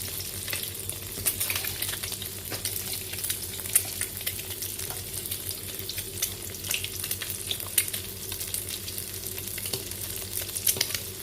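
Eggs fry in a hot pan at night, a steady close crackling sizzle with scattered pops throughout and no talking.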